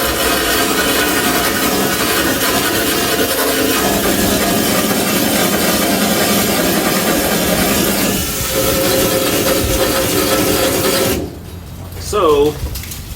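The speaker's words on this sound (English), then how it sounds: "I want to take my wire wheel and clean some of this up" A wire wheel cleaning wiring parts on a 1974 Dodge D100 truck, giving a loud, steady whirring grind that runs close and continuous, then cuts off near the end leaving quiet room tone.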